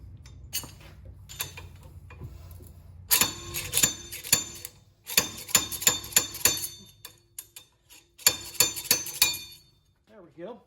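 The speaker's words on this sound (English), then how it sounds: "I'm going to try to use the slide hammer here to see what happens." A slide hammer pulls a bearing race from a Jeep Wrangler JK rear axle, giving sharp metallic clanks in clustered bursts of repeated strikes, with quieter gaps between them.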